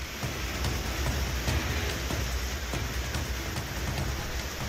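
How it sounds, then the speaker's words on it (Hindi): Heavy rain falls during floods in Panchmahal, Gujarat, a thick, constant hiss of downpour with faint scattered drop impacts, loud and unbroken throughout. "गुजरात में भारी बाढ़ और बारिश से शहर शहर त्राहिमाम मचा है।"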